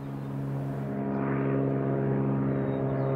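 Seaplane in flight on the way to Karluk Lake in Alaska bear country, a steady loud propeller-engine drone with strong low harmonic hum holding throughout, heard from inside or close to the aircraft.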